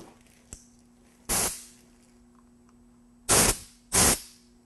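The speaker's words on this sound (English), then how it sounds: "If you have a compressed air gun, you can also blow air through this passage to make sure it's clear" A compressed air gun blows through a filter passage on an EZ Flow foam packaging machine: three sharp, loud hissing blasts, one on its own and then two close together after a pause, over a faint steady hum.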